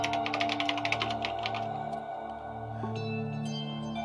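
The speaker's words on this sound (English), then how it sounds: "She began typing again." Rapid, close keyboard typing clatters in the video game Danganronpa: Trigger Happy Havoc for about two seconds, then gives way to sustained tonal game music.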